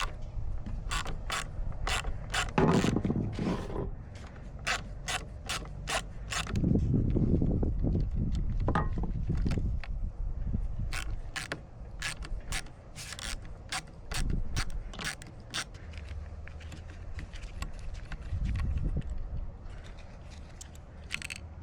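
A ratchet wrench clicks in quick bursts while bolts come off a STIHL KM110R trimmer during a carburetor replacement, with close mechanical clinks and tool rattles between the runs of clicks.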